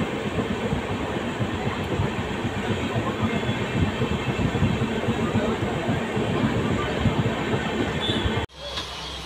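A train rumbling steadily along the rails, loud and close, with rhythmic wheel clatter and a faint squeal, cutting off abruptly near the end.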